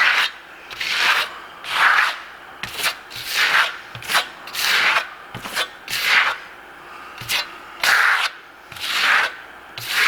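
A trowel spreads bi-color grassello Venetian lime plaster in repeated rhythmic scraping strokes, each a close, gritty swipe of about a second, with short pauses and light taps between passes.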